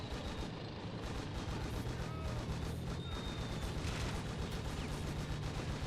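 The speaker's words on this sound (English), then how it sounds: "That 50 cal will provide support." Dense, continuous battlefield gunfire in a Red Rising mod war game, rapid bursts and distant booms blending into a constant loud roar with no clear gaps.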